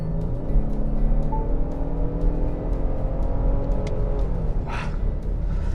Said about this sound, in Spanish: Este V6 EcoBoost con sus 457 caballos de potencia combinada suena de cine.